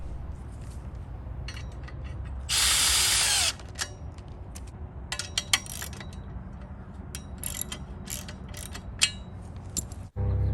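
A power drill bursts loudly for about a second, driving a lock nut onto a bolt through half-inch and three-eighths-inch washers on a tall wooden backyard swing set, set among scattered clinks and handling clatter of parts and tools.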